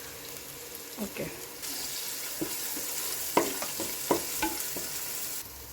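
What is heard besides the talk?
crushed ginger garlic frying and stirred with shallots and onion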